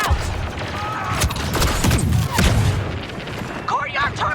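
A grenade blows up during a Star Wars Battlefront II match on Yavin 4, a loud booming blast amid rumbling battle noise and gunfire, with game voices calling out over the action.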